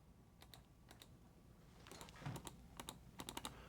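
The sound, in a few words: imitation of typing on a computer keyboard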